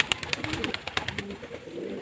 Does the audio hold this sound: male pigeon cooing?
yes